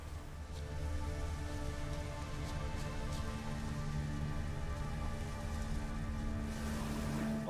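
Steady rain falls in the video game The Witcher 3: Wild Hunt. It is a continuous, even hiss of drops on surfaces with a low rumbling bed, holding at a constant level with no speech.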